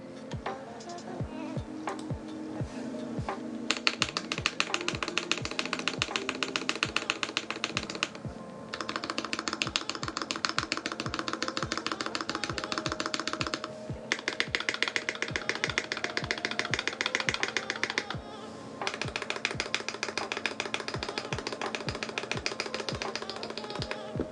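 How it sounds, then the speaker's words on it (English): Rapid, continuous clacking of a Viktus Deltablade mechanical keyboard, close and fairly loud, with brief pauses between bursts of typing. "turn off the sound filtering so you guys can all hear the beauty of this keyboard"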